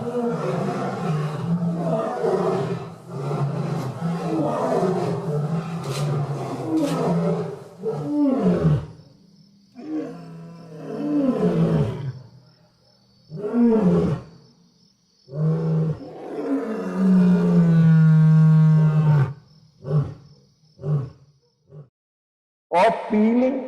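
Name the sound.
lion roaring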